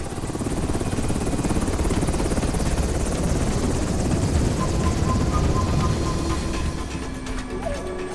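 A helicopter's rotor thumps in a fast, steady beat with a loud engine drone, close and continuous, fading slightly near the end.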